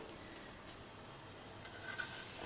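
Neer dosa cooking under a lid on a hot tawa gives a soft, steady, faint sizzle that holds evenly throughout with no voices.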